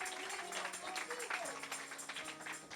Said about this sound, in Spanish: Dele aplauso si quiere darle.